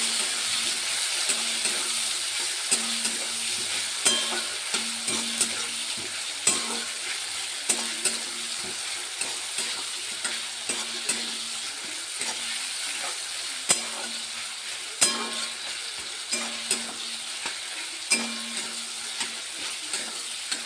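Ginger, tomato and green chilli sizzle in a hot pan, with a steady frying hiss and a spoon scraping and stirring in regular strokes, close and alone without talk.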